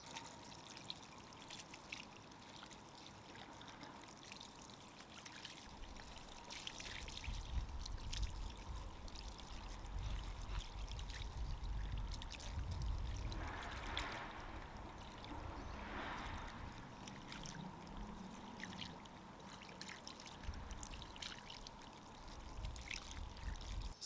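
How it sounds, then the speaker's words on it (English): A K&N air filter from a Fiat Bravo 1.6 is rinsed under a low-pressure stream of water outdoors, a continuous splashing, pouring wash with louder surges midway, steady and moderately close with no talk. "now it's time to give it a clean with water"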